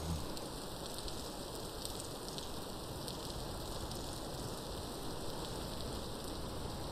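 Steady rain falls in the video game Vintage Story, a dense, even hiss of countless drops, continuous and unchanging throughout without other sounds.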